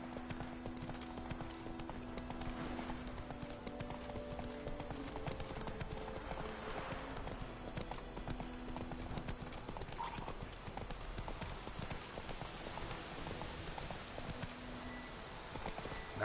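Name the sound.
horse Roach's hooves, from The Witcher 3 video game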